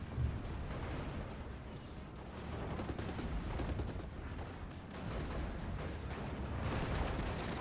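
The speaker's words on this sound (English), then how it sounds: "Nebel Warfare Barrage coming on. Ooh, that's Nebel Warfare 42." In a World War II strategy video game, a Nebelwerfer 42 rocket barrage roars as a dense, continuous rumble of launches and explosions, loud and sustained without break.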